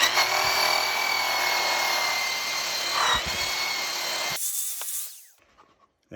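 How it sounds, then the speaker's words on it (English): A flap sander working over reclaimed wood, a loud steady high whine with gritty abrasive rasp that cuts off abruptly, leaving the motor spinning down into near silence. "Now we'll use the flapper sander, which is a whole bunch of little pieces of sandpaper"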